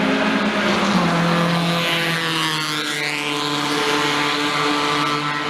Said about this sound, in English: The kid with a Civic, You know, slammed blasting VTEC with a fart can exhaust at 2 a.m.